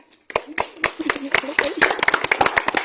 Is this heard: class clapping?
yes